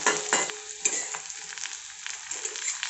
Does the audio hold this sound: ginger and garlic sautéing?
yes